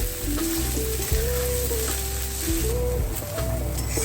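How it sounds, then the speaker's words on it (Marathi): Sabudana khichdi with peanut powder and salt being sautéed in a pan, a dense steady sizzle with a squeaky scraping spatula and occasional knocks against the pan, close and loud, no speech. "शेंगदाण्याचं कूट मीठ वगैरे हे सगळं घालायचं आणि छान परतून घ्यायचं"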